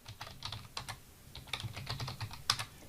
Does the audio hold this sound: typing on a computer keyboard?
yes